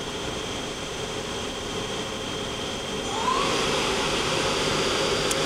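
A Doosan Lynx 220A CNC lathe spindle spins up at speed, a steady airy whine and whoosh from the chuck jaws that rises slightly in pitch and loudness partway through, with no talk.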